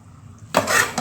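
A spoon stirs chicken liver fry with masala in a pan, starting after a quiet moment with a scraping, sizzling rush of metal on pan, close and fairly loud, with no talking.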